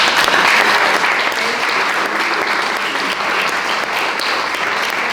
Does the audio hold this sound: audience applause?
yes